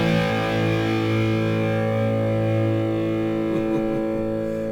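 A Firefly LP electric guitar played through a low-gain, slightly distorted tone rings out in one long sustained chord, steady and close with a few light string noises near the end.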